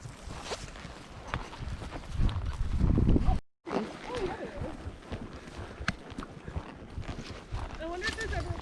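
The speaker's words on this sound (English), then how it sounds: "And the next horse in line here is Geronimo" Pack horses walking in line on a mountain trail, hooves clip-clopping in an uneven walking rhythm, with people talking over and around the steps and a brief dropout near the middle.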